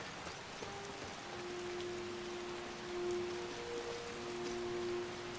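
Steady rain pours down in the fantasy video game Skyrim, a constant hiss of falling drops filling the scene at moderate level, with a faint low tone humming beneath and no voices.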